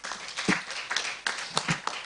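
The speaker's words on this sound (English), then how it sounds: "let us really applaud our panelists," Scattered clapping from an audience at a post-COP27 multi-stakeholder workshop in Kigali, Rwanda, applauding the panelists; a modest, uneven patter of hands in a room, fairly sparse rather than a full ovation.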